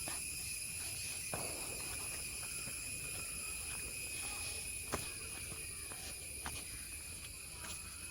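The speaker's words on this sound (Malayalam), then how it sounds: "ഇത് ചീവീടിൻ്റെ സൗണ്ടാ." Crickets chirp in a steady high-pitched drone, with a few faint scattered clicks and rustles nearby and no talking.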